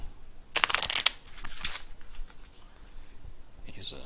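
Worn, scuffed cards from the board game Onimaru being shuffled by hand, a few quick riffling bursts followed by softer sliding and tapping, close and fairly quiet.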